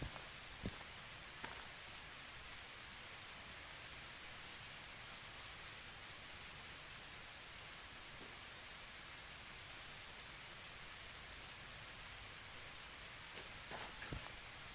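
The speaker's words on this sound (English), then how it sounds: "I do like the ASMR rain." Steady rain falls on a surface for the whole stretch, a soft even hiss with occasional louder drops and taps, calm and unbroken with no voices.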